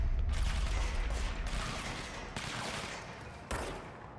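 Sustained gunfire from the video game Control, a dense, loud fusillade of rapid shots that rolls on continuously with a few sharper bursts, no talking over it.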